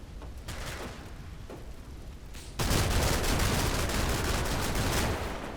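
A German Panzer tank firing in Combat Mission: Battle for Normandy, a few sharp shots followed by a sudden loud sustained burst of gunfire and rumble.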